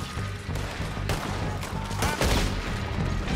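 Rapid gunshots from a Red Dead Redemption 2 shootout during the O'Driscoll mission, a close, loud cluster of cracks and reports over a low rumble of in-game ambience.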